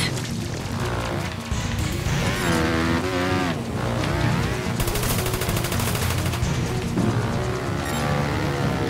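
Rapid gunfire aimed at a turret in the video game Trials of the Blood Dragon, a dense continuous rattle of shots over a busy game mix with music and effects, loud throughout.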